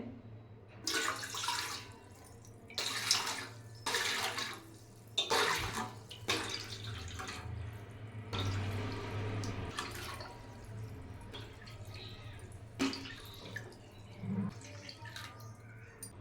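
Glasses of water are poured one after another into a cooking pot, making separate splashing bursts with short gaps, close and moderately quiet under a low steady hum.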